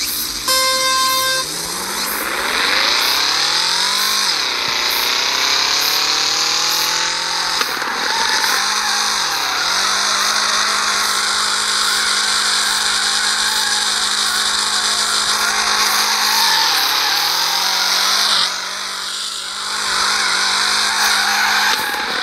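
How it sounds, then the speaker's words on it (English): Engine whine and tyre squeal from a slow car doing a solo drift run in the mobile game FR Legends, with rising and falling revs on gear changes and a constant loud, steady roar throughout. "Today in FR Legends, I'm gonna show you how to do drift."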